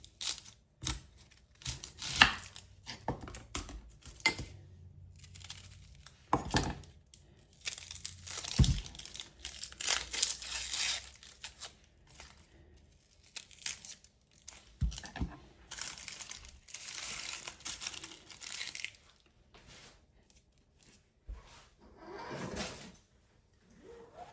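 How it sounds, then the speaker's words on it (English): A sweet onion being chopped on a cutting board for tacos, with irregular knife taps and crisp cutting strokes spread across the whole stretch, some louder thuds standing out among softer scraping and handling noises. "the next thing we're going to do is chop our onion"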